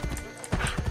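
Horse hooves clip-clopping at a steady rhythm in the video game Assassin's Creed Brotherhood, quick close thuds under someone talking.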